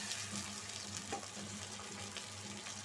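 Onions fried red in a pan hiss and crackle steadily as a little water goes in, a close, continuous kitchen sizzle with faint stirring and no talk.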